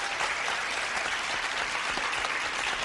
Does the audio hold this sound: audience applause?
yes